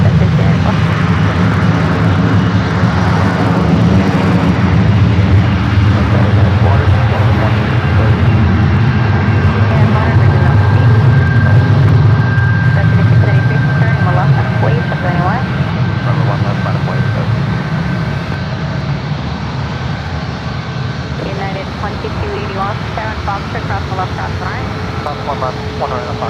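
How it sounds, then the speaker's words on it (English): A Boeing 737 MAX 9 lines up on the runway at SFO, its engines rumbling in a low, continuous roar that gradually eases, with talk heard over the engine noise. "This flight heading to Cleveland, Ohio in a 737 and MAX 9 lining up 1 right."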